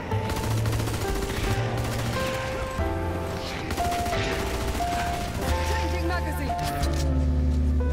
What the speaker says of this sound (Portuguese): Eu vou botar na metranquinha porque eles vão fugir.